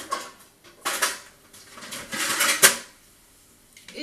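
Small roasting potatoes are tipped and shuffled onto a metal baking tray in a home kitchen, giving a few clattering metallic knocks and rattles in separate bursts, with a sharp clink near the end and quiet pauses between.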